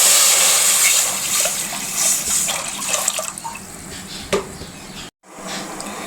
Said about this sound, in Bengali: কড়াই এবার পানি দিয়ে দিলাম।